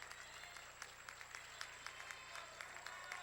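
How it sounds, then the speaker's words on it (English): Crowd on its feet applauding at a girls' varsity high school basketball game in a gym, sustained clapping with sharp individual claps popping out, steady throughout. "The crowd on their feet applauding Bryn Cotetta."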